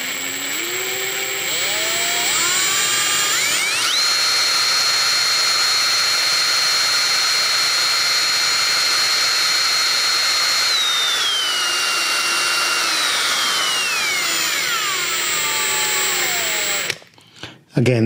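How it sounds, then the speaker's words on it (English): A power drill spinning a 160-to-1 harmonic drive gear whines steadily, its pitch climbing and falling as it spins up and slows, running loudly for most of the time before stopping. "I'm just gonna spin this with a drill."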